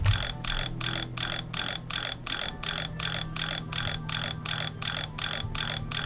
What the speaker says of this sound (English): Looping sound marking the position of a repair item.